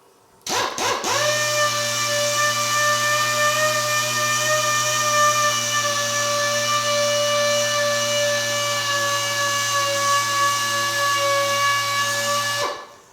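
A steady, loud power polisher motor whine with a sustained tonal hum runs continuously for about twelve seconds after a brief start-up while buffing a small 1950 Chevy truck part, then cuts off.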